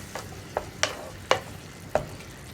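Pumpkin pieces are stirred and mashed in a simmering pumpkin and bean curry: five quick, distinct spoon knocks and squelches over a faint bubbling background, close by with no talking.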